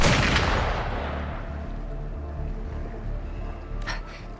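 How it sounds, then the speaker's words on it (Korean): A heavy gunshot in the video game Wuthering Waves booms at the start and rumbles away, followed by a couple of quicker, fainter shots near the end. "총소리."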